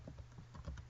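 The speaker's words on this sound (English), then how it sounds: "I'm going to go to another web page and I'm typing in the entire web address" Typing a web address on a computer keyboard, a quick run of light key clicks over about a second, close and fairly loud with no voices.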